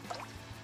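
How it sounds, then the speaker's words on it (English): Cartoon water dripping through a broken roof tile, a few soft, close drips over a faint background, no talk. "Is the dripping stopped? No, it's dripping more."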